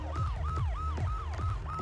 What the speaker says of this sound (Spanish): Ahí está, sirenas en marcha